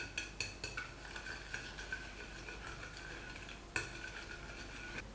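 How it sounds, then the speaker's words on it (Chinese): Sugar is stirred into a mixture for crisp, sweet pastries made from flour and eggs, giving quick rhythmic clicks and scrapes of the utensil against the bowl, one sharper knock near the end, all fairly faint and close. "放入30克白糖，充分的搅拌均匀。"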